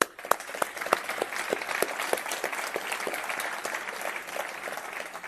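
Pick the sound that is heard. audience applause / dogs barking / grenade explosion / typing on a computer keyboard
audience applause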